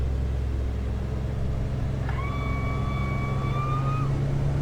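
Saab 340 turboprop engines drone steadily at takeoff throttle in the X-Plane 11 flight simulator, a constant low hum with a short high tone sounding over it partway through.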